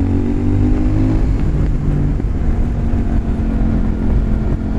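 A CF Moto 800NK motorcycle accelerates hard on the road, its engine note loud and close with a steady, full drone throughout.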